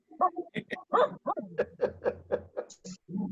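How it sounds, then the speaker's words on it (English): A small Shih Tzu dog gives a quick run of high, yappy barks and yips, close by and fairly loud, in a short burst lasting a few seconds. "What kind of dog is it? It's a Shih Tzu?"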